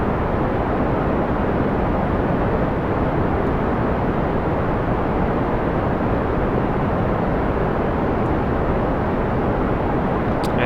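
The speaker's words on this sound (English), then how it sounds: "Let's just increase the throttle very slightly, because this is quite a heavy rocket." A heavy rocket in Kerbal Space Program roars steadily as it throttles up after liftoff, a dense, even broadband thrust noise with no pauses.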